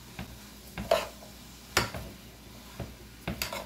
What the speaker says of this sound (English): I'm going to stir this around